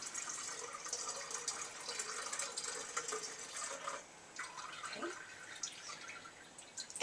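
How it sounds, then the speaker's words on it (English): Buttermilk poured off freshly churned butter into a container, a faint trickling and dripping liquid pour that runs steadily and then breaks into scattered drips, close and quiet. "I'm going to proceed to dump the rest of the buttermilk off"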